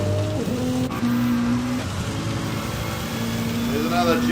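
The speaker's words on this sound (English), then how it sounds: "You can hear the wheel spin." A rally car engine revving with tonal whine as wheels spin on a rain-soaked track, rising and falling pitch, steady and fairly close, with a brief thump early on.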